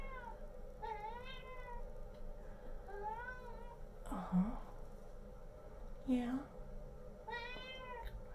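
A house cat meows repeatedly, rising drawn-out calls spaced a couple of seconds apart, close and clear, while a person murmurs brief replies between them.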